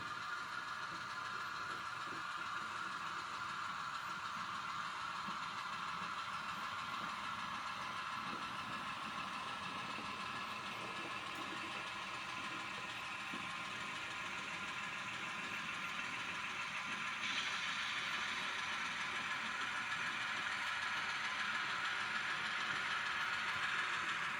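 A Long Island Rail Road train's steady low engine rumble idles on and on as it backs up to couple a tank car, with a faint rise in noise near the end and no talking.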